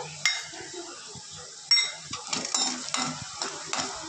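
Peanuts and cashews fry together in a pan for spicy puffed rice, with sharp metal spatula clinks and scrapes over a light sizzle and no talk.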